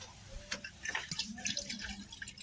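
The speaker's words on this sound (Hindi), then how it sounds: "पानी डालते हैं वहाँ से निकल रहा है।" Water poured into a car engine trickles and drips out of a leaking coolant hose, a quiet, irregular patter of small splashes close by.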